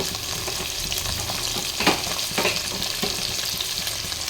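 Tomatoes and garlic fry in a pan, giving a steady hissing sizzle broken by several scraping stirs from a utensil, close and clear with no talking.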